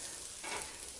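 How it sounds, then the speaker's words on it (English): A soft, steady sizzle of cauliflower frying in a hot grill pan, with a brief swell in the middle, no voices. "you can hear that sizzle when it meets the pan"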